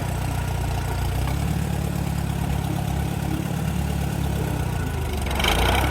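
An Allis Chalmers tractor engine running with a brush hog attached, a steady close low drone throughout with a slight rise in intensity near the end.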